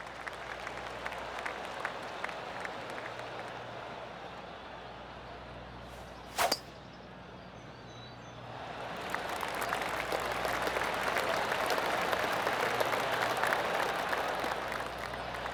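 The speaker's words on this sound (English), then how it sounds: "I can hear the golf claps around the course" Golf gallery applause ringing around the course in the video game PGA Tour 2K25, a broad wash of clapping swelling in the second half after a quieter ambient stretch and one sharp transient, with no talk.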